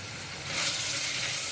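Sliced onions sautéing in a pan for Dindigul Thalappakatti-style seeraga samba mutton biryani give off a steady, close sizzling hiss that swells slightly midway.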